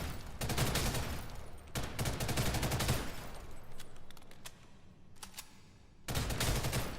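Automatic weapon fire on a shooting range in Ghost in the Shell: Stand Alone Complex First Assault, with long, loud, rapid bursts broken by short pauses and scattered single shots between them.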